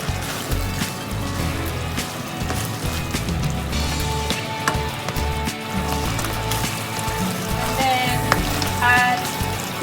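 Chicken sizzles in a pan with teriyaki sauce as it thickens, a steady, close, busy frying crackle with scattered pops running throughout.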